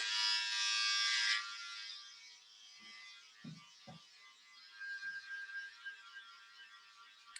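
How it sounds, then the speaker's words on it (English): A Wahl hair trimmer buzzes steadily and close while cutting and tidying hair in a salon, loud at first, then dropping to quieter intermittent buzzing with a few soft handling knocks. "Is that a specific trimmer you're using?"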